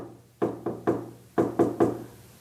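Six firm knocks on a wooden door fall in two groups of three, each a hollow, close thud with a brief decay, heard alone against a low steady hum.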